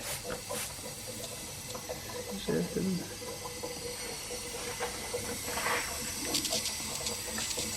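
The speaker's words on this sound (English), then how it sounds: "And you hear that noise, that gurgling?" A boost leak on a Mazda RX-7 engine doused in soapy water, giving a quiet, continuous gurgling hiss with small bubbling and sputtering bursts, under people talking nearby.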